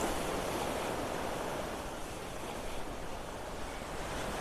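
Ocean waves wash in a steady, soft broadband rush with no distinct breaks, faint and continuous throughout, with no voices.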